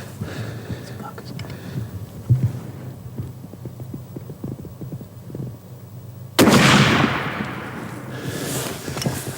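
A single loud gunshot on a deer hunt at a buck standing near a decoy. Quiet whispering and faint rustling come first, then a sudden sharp blast with a long, fading echo.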